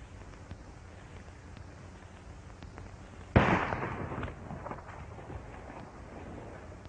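Single loud gunshot in a 1939 western film shootout, a sharp crack followed by a short rumbling echo that fades, set against quiet background hiss.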